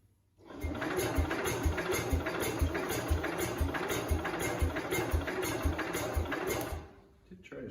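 A 1969 Cub Cadet 105 tractor engine cranks as it tries to start, giving fast, even mechanical chugging pulses for about six seconds before it cuts off.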